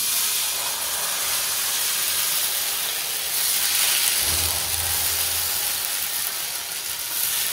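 Cumin seeds hit hot oil in a home kitchen, a loud, steady broadband sizzle and hiss that holds throughout, with a brief low thump partway through.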